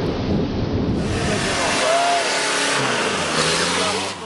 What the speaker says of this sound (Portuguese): Até que caiam as chuvas.